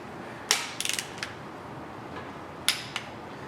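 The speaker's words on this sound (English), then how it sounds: "now we're going to do our first pass of torquing" A wrench torques cylinder head bolts on a 5.3L LS LM7 V8 engine, sharp ratcheting clicks in a few quick bursts separated by pauses, close and fairly crisp over a quiet background.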